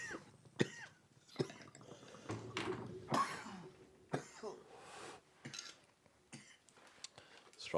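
Coughing after smoking Strawberry Cough cannabis on 420 in Las Vegas: a run of harsh, close coughs and throat-clearing bursts spread irregularly across the moment, with short gaps between fits.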